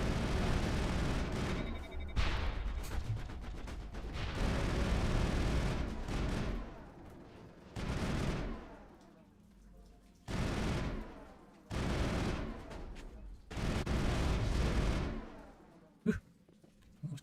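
Bursts of shotgun fire during combat against Geth in the video game Mass Effect, loud blasts arriving in irregular clusters separated by brief lulls, with a sharp isolated shot near the end.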